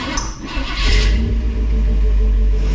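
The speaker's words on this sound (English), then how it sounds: "Now let's see if she'll even start since we cranked on that thing." A 1961 Chevrolet wagon engine catches and runs, giving a loud, close, deep rumble that rises as it revs and then settles into a steady idle.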